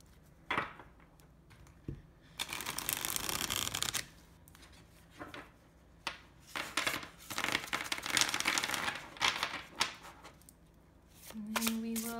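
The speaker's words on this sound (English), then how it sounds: "So I'm just going to give the cards a quick shuffle." An indie tarot deck gets a quick shuffle, with several bursts of crisp riffling and card slaps separated by brief pauses, close and clear.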